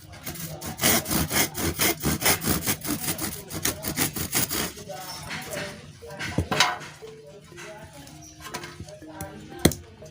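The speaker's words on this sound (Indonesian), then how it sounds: "ini bisa pakai gergaji dulu" A hand saw rasps through wood for a wayang golek puppet in steady back-and-forth strokes, loud and close, then stops; scattered knocks and handling noises follow.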